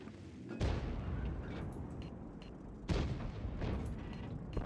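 Two heavy World of Tanks cannon shots firing armor-piercing rounds, each a loud, sharp boom followed by a long rumbling decay, spaced about two seconds apart with no talking.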